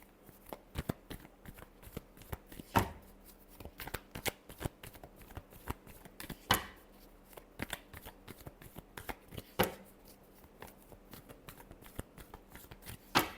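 A deck of tarot cards is shuffled close by, giving repeated soft riffling bursts and sharp snaps at an uneven rhythm, quiet overall with no talking.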